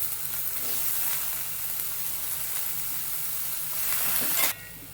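Mixed vegetables, including onion, capsicum, grated carrot and peas, sizzling in a pan for fried rice, a loud continuous hiss that swells briefly near the end before cutting off, with no voices.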